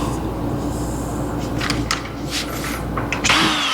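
A power drill bores through a motorhome kitchen countertop during installation, a steady close whirring grind running the whole time with brief louder bursts near the end, no one speaking.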